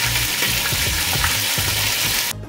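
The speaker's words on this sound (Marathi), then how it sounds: "आता ज्या तेलामध्ये आपण कांदा फ्राय केला होता ना त्यामध्येच आपल्याला 1 चमचा आलं लसूणची पेस्ट घालायची आणि व्यवस्थित अशी ही पेस्ट आपल्याला परतवून घ्यायची आहे." Ginger garlic paste sautés in hot oil left from frying onions, a loud continuous sizzle with soft stirring scrapes, close up and without voices, cutting off abruptly at the end.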